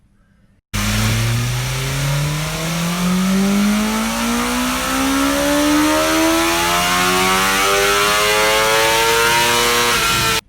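A car engine pulls hard from 4,000 RPM on a track acceleration run, its loud, close note climbing steadily in pitch for about ten seconds. There is no speech.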